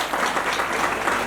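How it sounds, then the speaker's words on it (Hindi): A short burst of audience applause for the Patel family at a Ramayan katha gathering in a village, dense steady clapping throughout without any voices. "एक बार पूरे पटेल परिवार के लिए जोरदार ताली।"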